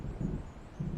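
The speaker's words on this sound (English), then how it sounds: "It seems there's a storm coming." Low rumbling thunder of an approaching storm in the video game Alan Wake, a faint, continuous murmur that swells twice, with no voices.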